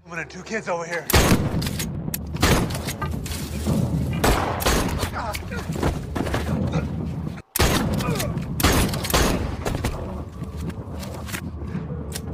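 Gunshots from the 2018 film Bird Box, a rapid run of loud sharp blasts and thuds over a dense, dramatic soundtrack, with one abrupt cut to silence midway before the shooting and noise resume.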